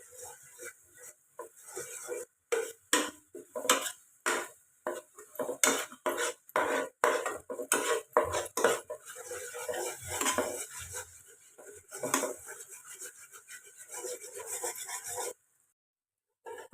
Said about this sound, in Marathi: ही अमूल बटरमध्ये जरा मिक्स करून घ्यायची